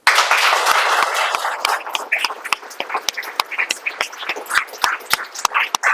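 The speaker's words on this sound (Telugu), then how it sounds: "మీకు మీ ఎనర్జీ ఎంత ఉంటే అంత ఒకసారి క్లాప్ కొట్టండి గట్టిగా." An audience at a children's brain-development awareness talk claps loudly, starting as a dense burst and thinning into sharp, scattered individual claps close by, continuing alone without talk.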